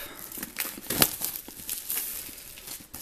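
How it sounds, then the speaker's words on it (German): Plastic wrap crinkles and tears as it is peeled from a Splinter Cell Blacklist Ultimatum Edition game box, a close series of crackling rustles with one sharper rip partway through. "Erstmal die Folie ab."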